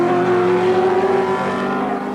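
Group C touring cars from the 1984 Australian Touring Car Championship race at Symmons Plains, engines droning loudly and steadily in a bunch with a sustained pitched whine, no talk over them.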